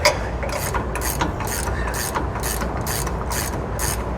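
A wrench loosening the bolt nut on a vehicle shock absorber during an air helper spring install, giving a steady run of quick ratcheting clicks in regular bursts, close and fairly loud with no talking.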